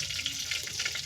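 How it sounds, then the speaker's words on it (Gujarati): Mustard seeds sizzle in hot oil with a soft, steady hiss and faint crackling pops, quiet and close, with no talking. "જોઈ શકો છો આ રાઈ નાખી દઉં. તેલ આવી ગયું છે."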